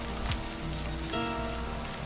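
Rain falling in the video game Livber: Smoke and Mirrors, a steady patter of drops under soft musical tones, continuous and moderately loud without speech.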